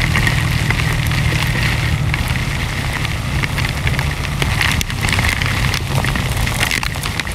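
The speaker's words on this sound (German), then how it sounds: "Ich glaube, es regnet." Rain falls heavily during a stop on a motorcycle trip in Styria, a dense, steady patter and hiss of drops close by with scattered sharper hits, without talking.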